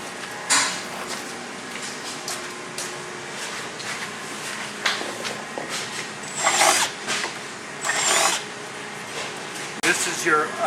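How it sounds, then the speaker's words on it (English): Power drill enlarging two holes in a metal windshield mounting bracket for a Polaris General, short intermittent bursts of drilling close by, with someone talking throughout. "I'm drilling them out to 7/16."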